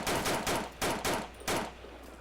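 Rapid repeated gunshots in BreakingPoint on a local server, about seven sharp bursts in quick succession, loud and close with no talk.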